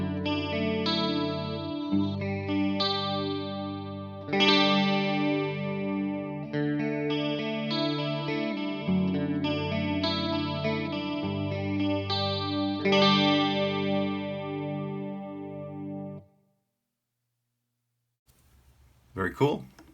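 Chapman ML3 electric guitar played through a Line 6 Helix preset with its EQs switched off, giving chorused, effected chords and sustained notes for about sixteen seconds before falling silent, then a brief burst of noise at the end.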